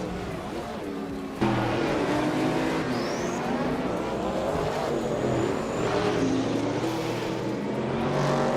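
A 1978 Greenwood Corvette GTX in a racing game, its engine droning loudly and steadily with shifting pitch after a sudden start, other cars whining past now and then.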